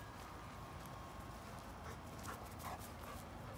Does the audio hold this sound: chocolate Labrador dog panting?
yes